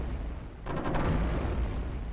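A quieter stretch of rumbling battle noise in the tower-defense game iBomber Defense, Germany level, then a sudden sharp burst of machine gun and cannon fire near the middle that rolls on as a dense, loud barrage.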